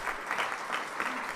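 Conference session audience applauding, a dense patter of many hands clapping in swelling pulses, moderately loud and without speech.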